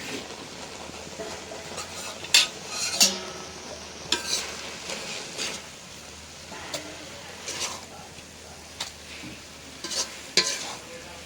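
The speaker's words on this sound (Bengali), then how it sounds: "বাগার দিই।" Tempering (baghar) for fried bottle gourd and greens sizzles softly and steadily in a pan, with scattered stirring clinks and scrapes throughout.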